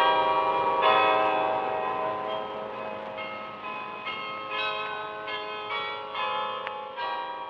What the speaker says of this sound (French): les notes légères des 55 cloches du carillon le plus beau, paraît-il, de tous les pays britanniques et qui joue en ce moment un vieil air de France